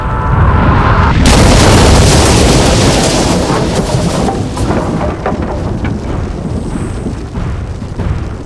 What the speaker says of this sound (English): there was an earth-shattering bang!